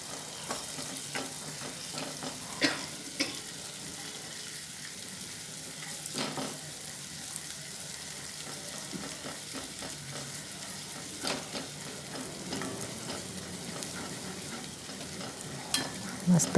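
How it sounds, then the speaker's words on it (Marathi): A spoonful of gram flour (besan) roasts in oil in a pan for paneer bhurji, giving a steady soft sizzle with occasional spoon scrapes and stirring clicks, moderately quiet and close, no talking. "एक चमचा बेसन घेतलंय. तेलात चांगलं भाजून घ्यायचं"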